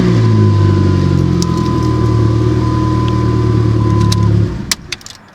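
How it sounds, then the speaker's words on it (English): A car engine, with a manual clutch and just back from repairs, runs at a steady, loud idle for about four and a half seconds, then cuts off abruptly, leaving a few faint clicks and knocks. "So I want to make sure that when I push my foot on the clutch and start the key that the car decides it wants to start."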